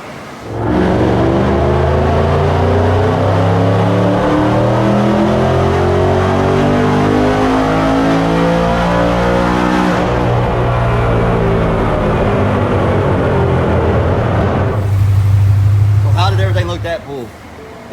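A turbocharged LS-engined car, a Whipple-equipped GT on a new tune, revs hard on a dyno at Titan Motorsports, the loud continuous engine note climbing and falling in sweeping pitch runs for the whole stretch, with a surge near the end.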